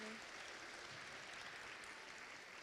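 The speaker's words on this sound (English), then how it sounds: "if we could have a round of applause for the siblings of young people" Audience at a Limerick event for children with disabilities applauds the siblings of young people, a dense, even wash of clapping heard faintly as if from a distance, with no separate claps standing out.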